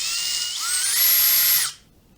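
A high-pitched electric drill running in reverse whirs loudly up close, its motor pitch rising as it speeds up, then cuts off abruptly into silence.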